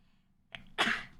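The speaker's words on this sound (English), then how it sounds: "I can't stop sneezing" A woman sneezes once, close and loud: a short catch of breath followed by a sharp burst, with no talk over it.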